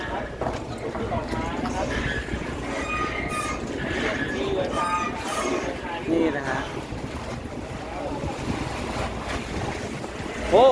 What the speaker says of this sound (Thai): นี่คือเรือทรายขนาดใหญ่นะ เขาขนทรายขนของนะครับ